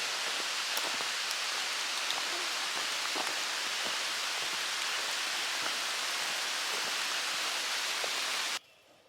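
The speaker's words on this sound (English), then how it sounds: "And it's raining again." Steady rain falling and pattering on surfaces, a dense hiss with scattered drop ticks throughout, stopping abruptly near the end.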